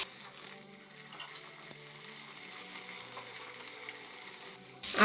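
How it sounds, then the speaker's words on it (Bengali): Diced potato cubes fry in a pan of hot oil for a Bengali rui fish and pea bhuna, giving a steady, close broadband sizzle with light stirring throughout and no talking. "আলুগুলি 1 মিনিট ভেজে নিয়েছি"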